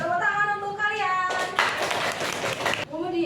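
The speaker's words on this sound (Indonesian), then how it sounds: "tepuk tangan untuk kalian" Students in an Indonesian classroom clap their hands together in a burst of dense, lively clapping lasting a little over a second, with children and a teacher chanting and speaking just before and after.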